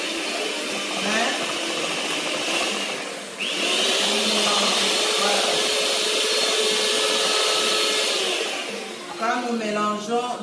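An electric mixer whirs steadily through crepe batter, a loud continuous motor drone that cuts in after a brief pause and runs for several seconds before a voice speaks near the end.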